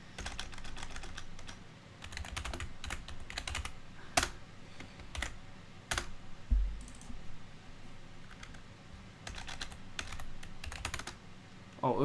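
Rapid keystrokes on a computer keyboard during a Windows Vienna Transformation Pack setup come in irregular bursts of clicks with short pauses, close and steady throughout.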